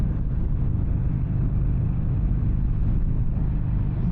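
A 2022 Harley-Davidson Iron 883 Sportster engine under way at about 65, a steady low, heavy rumble with strong vibration and no letup, close and alone with no voices.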